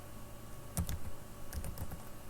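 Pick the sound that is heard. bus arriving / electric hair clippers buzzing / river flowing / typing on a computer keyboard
typing on a computer keyboard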